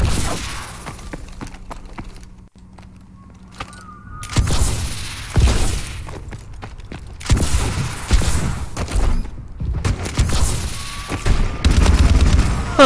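Heavy gunfire from a big gun in Call of Duty: Advanced Warfare, fired in loud, dense bursts with booming thuds and whooshes, separated by short quieter gaps.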